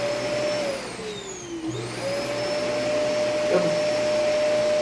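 Hoover vacuum cleaner running steadily close by, sucking up drilling dust at a wall indoors; its motor whine shifts pitch briefly as the nozzle moves, with a short spoken word over it.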